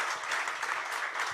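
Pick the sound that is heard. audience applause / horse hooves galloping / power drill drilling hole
audience applause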